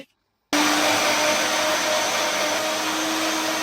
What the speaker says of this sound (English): So just put it in your blender as so.